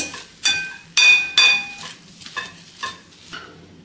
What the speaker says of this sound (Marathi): वाटाणा आणि बटाटा आपल्याला जास्त बारीक नाही करायचा आहे, त्यामुळे मॅशरच्या मदतीनेच आपल्याला इथे बारीक करून घ्यायचा आहे